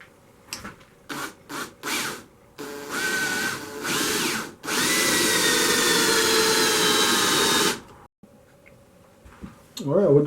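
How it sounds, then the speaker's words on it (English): A power drill bores into a mahogany blank for a wormwood screw during woodturning, starting with short stuttering bursts, then a long steady whine, with brief talk at the end. "I'm going to go ahead and drill this for my"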